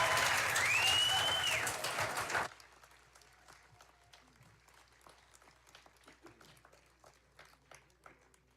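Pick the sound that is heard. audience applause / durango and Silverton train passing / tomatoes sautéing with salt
audience applause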